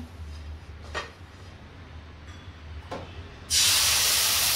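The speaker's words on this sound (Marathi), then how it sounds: "गॅसवरती मी पॅन ठेवलेलं आहे, आपण डोसा टाकून घेऊया।" Thin neer dosa batter hits a hot, oiled pan on a gas stove with a sudden loud, steady hiss that starts late in the clip. It follows a quiet stretch with a couple of faint clinks.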